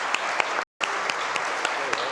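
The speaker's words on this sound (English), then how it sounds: "Everyone, please give a round of applause for our speakers." A short burst of steady crowd applause for panel speakers at a conference, with a brief cut in the middle, a few louder claps standing out.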